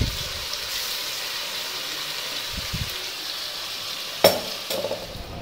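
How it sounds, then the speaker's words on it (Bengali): Onion frying in a pan with spices and ginger-garlic paste: a steady, hissing sizzle fills the whole stretch. It is broken by a few soft stirring scrapes and a sharp clatter near the end, close and moderately quiet, with no talk. "মশলাটা দিয়ে আবার একটু ভাজি"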